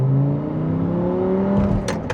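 An Audi R8 V10 Plus with a modified gated manual cruises through town, its engine holding a steady, loud drone with sustained low harmonics that rise slightly in pitch. Brief hissy bursts come in near the end.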